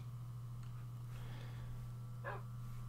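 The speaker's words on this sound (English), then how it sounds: "At least this is where I have my dogs." A single short bark from a dog in Minecraft, faint and brief against a steady low hum, with one clearer yelp near the end.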